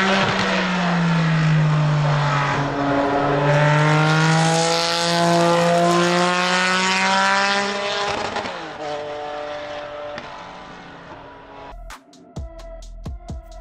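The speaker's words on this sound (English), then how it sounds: "This flat six has a gorgeous sound mixed with the turbos." A twin-turbo 3.8-litre flat-six car engine roars hard through rising gear pulls at a motoring festival, loud and close with a mix of engine and turbo tones, then backs off and crackles on the overrun near the end.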